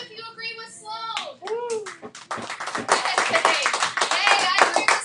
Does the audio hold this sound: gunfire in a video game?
no